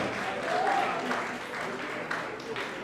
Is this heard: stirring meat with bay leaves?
no